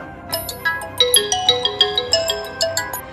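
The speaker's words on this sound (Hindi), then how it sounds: "उधर साइबर सेल को सूचना देने के बाद इंस्पेक्टर विश्वास को वहां से फ़ोन आया" A phone rings on an inspector's line in a Hindi crime drama, an electronic ringtone melody of rapid bright tones pulsing in a steady repeating pattern, loud and close with no talk over it.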